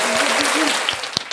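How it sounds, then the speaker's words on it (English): A small studio audience at a podcast interview claps for a guest, a brief burst of dense, close applause that thins toward the end with a few scattered claps. "give him a round of applause"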